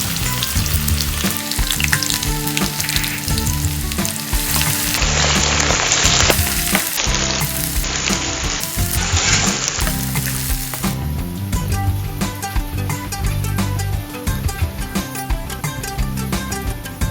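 Chopped onions sizzle loudly in hot oil while frying for a chicken curry, a dense continuous hiss under steady low background music, with no talking.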